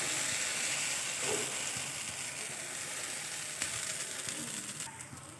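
Masoor dal dosa batter spread across a hot pan sizzles in a dense, steady hiss up close, with a few faint clicks and scrapes, fading slightly toward the end.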